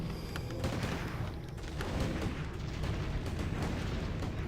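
Mortar rounds fire and burst in a strategy video game, a dense run of overlapping booms and crackling detonations rolling continuously at a fairly loud level with no talk.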